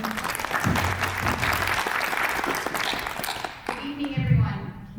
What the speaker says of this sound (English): Please give a big round of applause for Rachel Heaton,